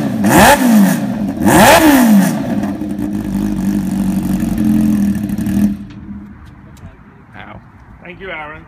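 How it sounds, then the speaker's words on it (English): A Kawasaki H2 motorcycle engine starts and revs hard twice in quick loud bursts, then holds a strong rumbling idle before cutting off, followed by brief nearby voices. "H2, start and rev."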